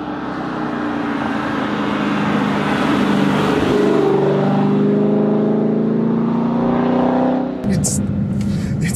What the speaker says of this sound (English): nothing quite like hearing that whine coming in off of the exhaust